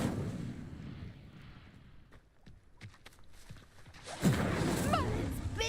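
In the Hogwarts Legacy video game, the Incendio fire spell ignites a pyre: quieter game ambience and scattered light clicks, then a sudden loud whoosh as flames catch and keep roaring, with a ringing tone on top.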